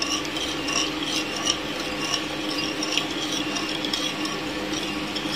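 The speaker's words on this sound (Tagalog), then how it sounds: "Haluin hanggang matunay yung sugar." A spoon stirs sugar in water until it dissolves for homemade gelatine, a steady light scraping and clinking against the container, close and continuous, with no talking.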